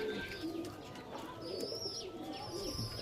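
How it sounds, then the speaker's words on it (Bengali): Pigeons in a loft, fantail and Bengali-type breeds, cooing softly in a low, steady murmur with a few higher chirps over the top, all close by with no talking. "কিন্তু পায়রা দেখুন"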